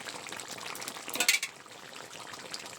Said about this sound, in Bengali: বেশ সুন্দর করে ফুটিয়ে নিয়েছি। একটু নেড়ে ছেড়ে নিলাম।